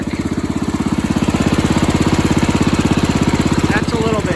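A repaired garden tractor engine runs with its muffler on, a loud, close, steady rapid chugging putter that holds an even rhythm throughout, with no talk over it.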